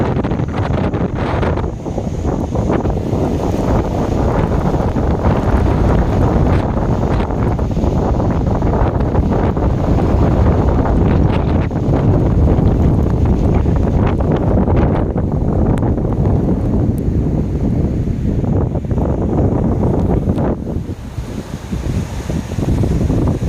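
Strong Hurricane Helene wind in Tampa, Florida, a loud continuous roar buffeting the microphone with gusty rumble throughout, easing slightly near the end.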